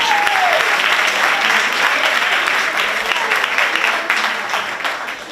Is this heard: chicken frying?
no